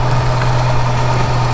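A camper van engine idles with a steady low hum and even rumble, loud and close, with no talk over it.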